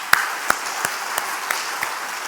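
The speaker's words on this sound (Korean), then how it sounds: "박수 한번 해줍시다." Claps come from a church gathering in a Korean congregation during a Sunday sermon. About six crisp, evenly spaced claps ring out in a slow rhythm, and the later ones are slightly softer.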